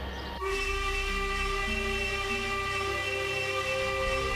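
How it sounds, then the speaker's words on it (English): A loud steam engine whistle bursts out in a train yard after a brief quieter lead-in, then holds as one sustained, steady multi-tone blast to the end. "a loud whistle erupted through the yard"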